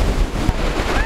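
Ocean waves washing up on a beach, a short burst of rushing surf mixed with gusty wind rumble on the microphone, close and loud.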